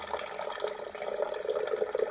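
Water poured carefully from a coffee pot into the reservoir of a coffee maker, a steady close trickle and splash that runs unbroken for about two seconds, with no voices.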